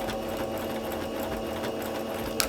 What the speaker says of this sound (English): how that needle is going back and forth. That's the nature of the zigzag stitch.